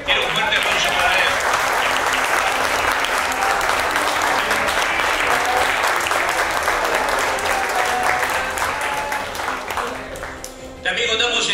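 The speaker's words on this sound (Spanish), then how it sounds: "Quiero un fuerte aplauso para él." Loud, sustained applause from a large crowd at an awards night, with crowd noise mixed in. It fades slightly near the end, then swells again briefly.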